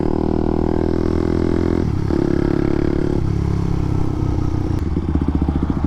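A Honda motorcycle, likely an EF, cruises on the freeway with a loud, steady engine drone and rushing wind, the pitch shifting slightly partway through as it holds speed.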